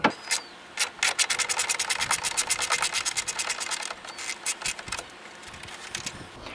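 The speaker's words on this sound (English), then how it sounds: "Looks like it's 10 millimeter. We're gonna go ahead and undo those guys." A ratchet spins off 10 mm bolts holding the electric fan on a 2003 Dodge 2500, a loud, close run of rapid clicking bursts, pausing briefly and then resuming in shorter spurts.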